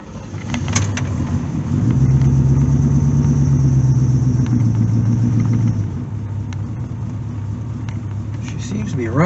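Old car engine idling rough on a test drive, loud low rumble that swells into a steadier drone for a few seconds and then settles back to an uneven idle, with faint clicks and rattles on top.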